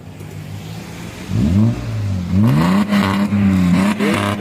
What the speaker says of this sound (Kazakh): Парк болып қой, газ бас.